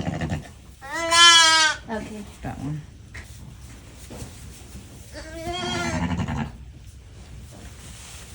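A newborn lamb not yet fed colostrum bleats from the back of a pen, two loud wavering cries about five seconds apart, with a person talking quietly between them.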